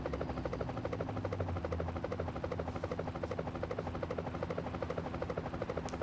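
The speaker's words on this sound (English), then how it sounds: "I get to fly the chopper." A helicopter in GTA: Chinatown Wars keeps up a steady, rapid rotor thump with a mechanical whine, continuous and moderately loud throughout, with no voices.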